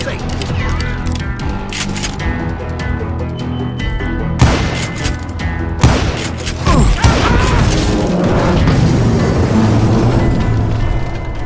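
Gunfire in the Western video game Call of Juarez Gunslinger, a loud, dense run of shots and booms with mechanical clatter, set against a continuous game soundtrack.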